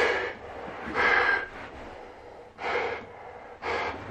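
Someone breathes through a Sundstrom SR100 half-face respirator fitted with filters. Four close, hollow, airy breaths come at uneven intervals, each rising and fading, with quiet gaps between them and no talking.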